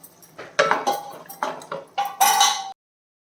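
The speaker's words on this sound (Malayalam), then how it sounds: "ശകല ഉപ്പ് കൂടെ വേണം. നല്ല രീതിയിൽ മിക്സ് ചെയ്തേക്കാം." Metal spoon clanking and scraping in a pot while chicken curry is stirred with salt, a series of bright clinks and knocks in quick irregular bursts, close and clear, ending abruptly in silence.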